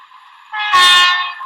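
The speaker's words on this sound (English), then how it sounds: "Here comes a train around a corner." A train rounds a corner, its horn blaring loud and sustained with a rushing swell of rail noise in the middle, no voices.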